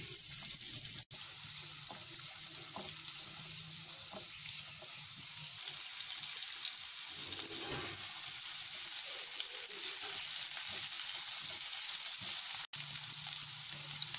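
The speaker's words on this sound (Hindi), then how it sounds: "तीन मिनट मैंने इसे फ्राई कर लिया" Onions frying in two spoons of oil in a pan for a spiced okra dish, a steady broadband sizzle running throughout at moderate level, with brief clicks and a running-water hiss, no talk.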